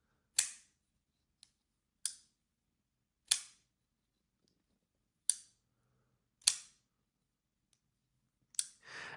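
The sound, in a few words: Gareth Bull Shamwari folding knife opening with a ting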